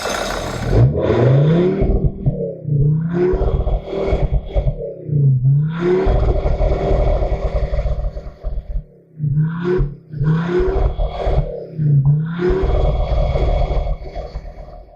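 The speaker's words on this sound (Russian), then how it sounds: "А сейчас погазую, посмотрите, вот, с глушителя какое." A Jeep Grand Cherokee WJ's 2.7 CRD diesel engine revs repeatedly through the exhaust, rising to a deep roar and dropping back in several bursts, close by.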